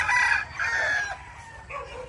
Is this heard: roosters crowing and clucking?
yes